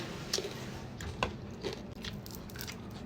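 Crisp food crunched close to the mouth, a few separate dry cracking bites spread across a few seconds over a faint room hum.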